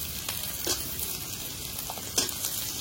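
Diced potatoes dropped into a hot pan with chopped onions, green chillies and greens, giving a steady soft sizzle with a few brief clinks and scrapes of stirring.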